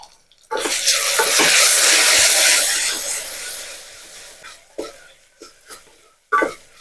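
Curry leaves hit a hot pan for mutton sukka, setting off a loud, close burst of hissing sizzle that fades over a few seconds, followed by a handful of sharp spatula knocks and scrapes.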